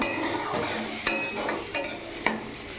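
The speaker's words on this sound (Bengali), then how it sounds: "এই দেখো আমার ডিম কষা হচ্ছে" Egg masala stir-fried in a pan with ghee and spices, steady sizzling under repeated scraping strokes and sharp taps of a spatula against the metal, close and clear.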